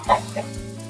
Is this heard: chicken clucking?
yes